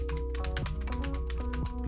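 Typing on a computer keyboard picked up by a budget streaming microphone, rapid close clicks over steady tonal background music.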